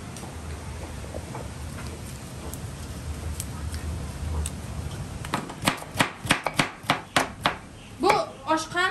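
Carrots for plov are chopped on a board in a village café kitchen in Uzbekistan, a fast run of sharp, close knife strikes starting midway after a stretch of background kitchen noise.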